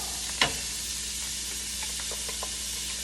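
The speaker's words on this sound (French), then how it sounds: "Je vais rajouter un peu d'huile. Comme ça. Je garde les saveurs qui sont déjà dedans. Alors, je vais mettre un oignon." Onion added to oil in a hot pan sizzles steadily under a loud frying hiss, with one sharp stir scrape near the start and faint utensil taps after, with no talking.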